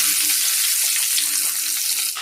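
Hot oil sizzles loudly and steadily, a dense continuous crackle as garlic fries in a pan.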